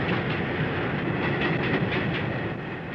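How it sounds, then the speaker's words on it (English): Loud, continuous rumble of a train crossing the 1860s Grosvenor railway bridge over the Thames, with rhythmic rattling and clattering of wheels and carriages, close and unbroken throughout. "The passage of a train shows how the old structure of the 1860s reacts to the heavy"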